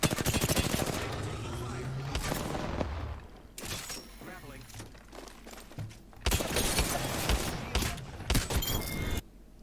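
Gunfire in the Apex Legends video game, bursts of rapid automatic shots and cracking impacts in dense stretches with short pauses between, loud and busy throughout.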